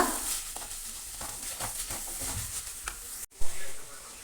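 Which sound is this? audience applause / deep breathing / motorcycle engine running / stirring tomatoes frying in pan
stirring tomatoes frying in pan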